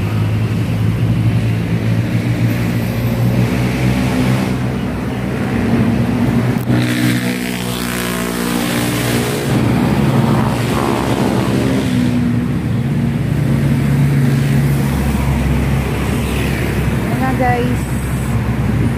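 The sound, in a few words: motorcycle riding on the road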